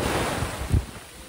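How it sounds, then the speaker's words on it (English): Cold ocean waves roll over swimmers at Virginia Beach, a loud, continuous wash of surf and wind buffeting with a low thump from one slapping wave, no voices. "the waves are slapping the heck out of us too"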